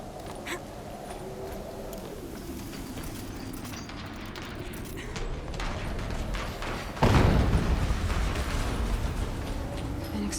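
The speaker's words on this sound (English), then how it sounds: "explosion." An explosion bursts out in Horizon Zero Dawn Remastered, a loud sudden blast with a wide rumbling tail over ongoing game ambience and a low droning bed.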